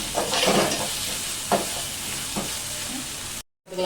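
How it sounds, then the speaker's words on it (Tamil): Ginger garlic paste sautéing in a pan, a steady close sizzle broken by a few scraping stirs, then a brief cut to silence near the end. "இஞ்சி பூண்டு பேஸ்ட்டு நல்லா வதங்கிட்டோம்."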